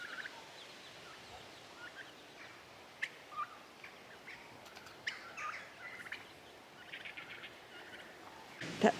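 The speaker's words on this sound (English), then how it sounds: "we've got 12 turkey poults. They 3 months old" Turkeys and a group of three-month-old poults are heard at a moderate distance. Scattered gobbles, chirps and peeps rise over a quiet outdoor background.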